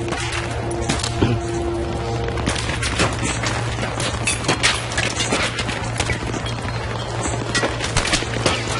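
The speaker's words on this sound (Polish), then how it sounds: "Skąd dochodzą strzały?" Gunfire in the Battlefield 3 video game, a dense, fairly loud stream of rapid shots and cracks crowding the whole stretch with no voices over it.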